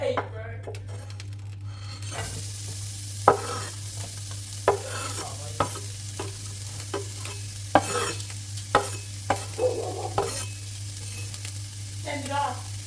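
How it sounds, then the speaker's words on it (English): Onion sizzles in hot oil in a large pan, a steady frying hiss under repeated sharp clinks and scrapes of a utensil stirring against the pan, close and moderately loud. "Make sure the oil is nice and hot, and then add the onion."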